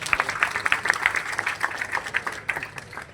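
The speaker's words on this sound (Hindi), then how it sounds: "एक बार जोरदार तालियां बजाइए अपने लिए।" Students at a Delhi Jantar Mantar protest applaud in a dense burst of clapping that stays fairly close and lively throughout, then thins slightly toward the end.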